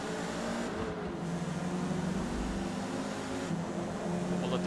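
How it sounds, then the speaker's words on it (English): Race car engine droning steadily from the starting grid in Forza Motorsport, a continuous low hum with mild rises as power comes on, under a bed of game noise. "At the starting grid, try to get a decent launch here. Get on the power early."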